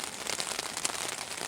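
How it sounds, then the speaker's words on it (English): Rain falling steadily during a wild camp on a Scottish island by a castle, a dense near hiss of drops pattering on a surface, alone with no talking. "That's the rain on a bit heavier now."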